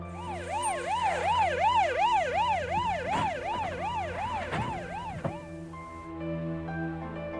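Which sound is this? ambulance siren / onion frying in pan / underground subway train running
ambulance siren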